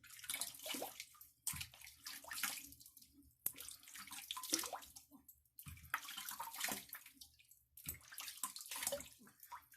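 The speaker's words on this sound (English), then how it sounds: "I had already wet my face, but it went dry, so let me re-wet my face." Water splashing in bursts at a sink as a face is re-wetted before a wet shave, with several separate splashing runs and short pauses between them, fairly close and with no talk.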